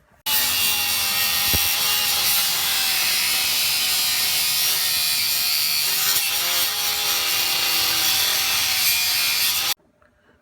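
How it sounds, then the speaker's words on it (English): A 1957 Chevy Nomad steering wheel being cut to remove its center section: continuous loud, harsh cutting that runs steadily for about nine seconds, close up, before stopping abruptly, with no speech. "Next, I'm going to cut this steering wheel, get rid of the center section."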